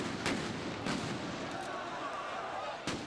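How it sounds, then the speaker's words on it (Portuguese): Riot police fire rubber bullets and stun grenades to disperse football fans in a clash outside Vila Belmiro stadium. A few sharp bangs ring out at irregular intervals over a continuous roar of crowd noise. "Com tiros de borracha e bombas de efeito moral, tentavam dispersar a multidão."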